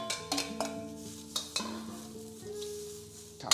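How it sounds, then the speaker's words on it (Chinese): Pickled cabbage stir-fried dry in a non-stick wok, with a spatula scraping and tapping in quick strokes over a low crackling sizzle, heard close up with no one speaking. "我们把这个酸菜给炒干"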